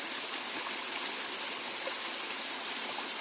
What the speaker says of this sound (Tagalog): Pakinggan mo yung tunog ng tubig.